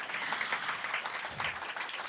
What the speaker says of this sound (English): How about a round of applause, please, for all the gentlemen on stage?